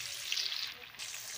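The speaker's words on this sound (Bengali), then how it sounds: "মাছটা লাল করে ভাজা নিচ্ছি" Small fish frying until reddish in a pan for a Bengali New Year morning meal, a steady bright sizzling hiss that runs throughout with no voices.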